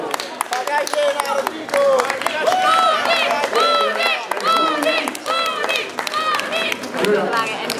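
A crowd claps and cheers at a Saturday cosplay contest at Firenze Comics, with steady applause and cheering mixed with loud music or voices over nearly eight seconds, continuous and energetic throughout.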